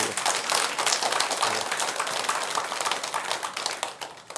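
A Buddhist temple audience gives a round of applause during a talk on marital wisdom, many hands clapping in a dense, moderately loud patter that fades slightly toward the end.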